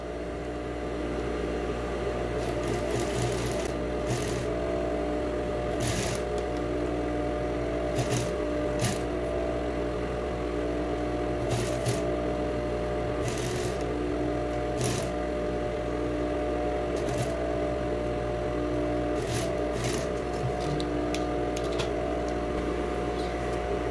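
Sewing machine stitching the lining of a child's trapeze dress, running as a steady mechanical hum with brief bursts of faster stitching, close and continuous throughout.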